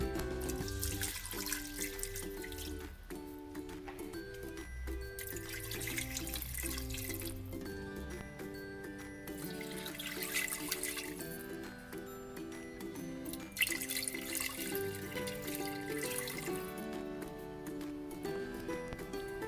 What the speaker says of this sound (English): Now we're going to add water, just enough to cover the meat.